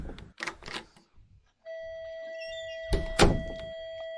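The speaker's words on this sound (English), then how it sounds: "now, as you can see, you'll probably immediately be able to notice what the sound is different" A game door sound plays: a chiming, ringing tone with a thunk-like knock, heard between short bursts of clicking and handling noise.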